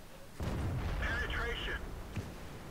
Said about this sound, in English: they're firing at me, but I have to take them out while they're there